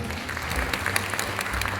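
Dense, steady applause from an audience at a Thai Yamaha youth music festival award ceremony, filling the whole short stretch at an even level with no voices on top.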